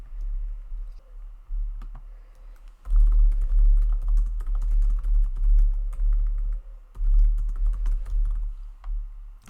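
Someone types on a computer keyboard while building a website section, with quick, close key clicks in bursts and brief pauses, fairly clear with no talking.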